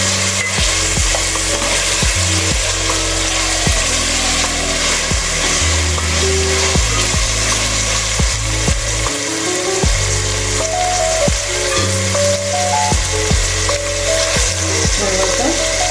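Vegetables for veg biryani frying in hot oil, a loud continuous sizzle up close, punctuated by repeated knocks and scrapes of a utensil stirring the pan at an irregular rhythm.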